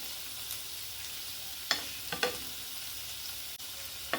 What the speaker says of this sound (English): I'm going to go ahead and flip the shrimp over.